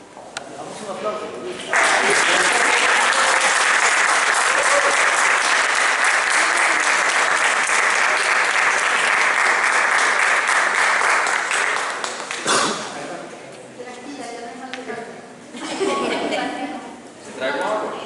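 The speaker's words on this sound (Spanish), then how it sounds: "Damos un aplauso." Loud, sustained applause from a large audience at an academic lecture fills about ten seconds, then fades into scattered clapping and murmuring voices.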